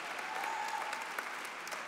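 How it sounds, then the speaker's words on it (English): Audience applause fills a gala hall, a steady dense wash of clapping from a large crowd, loud and continuous throughout, with a faint whistle-like tone briefly riding over it. "please join me in a round of applause for her"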